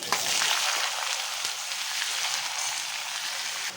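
Paneer sizzles and fries steadily in a hot pan for a dhaba-style paneer do pyaza, a dense, even crackle that holds at close range throughout, with no one speaking.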